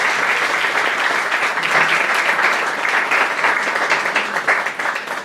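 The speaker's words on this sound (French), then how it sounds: "On peut l'applaudir parce que officier Légion d'honneur." Sustained applause from an audience at a Légion d'honneur award ceremony honoring a professor, a dense, steady wash of many hands clapping for about five seconds, fairly loud and close, with no talk over it.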